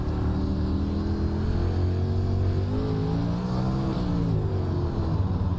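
A dirt late model race car engine in iRacing, World of Outlaws at Lanier Speedway, drones steadily under throttle, its pitch wavering and rising slightly as the revs climb, loud and continuous with no talking.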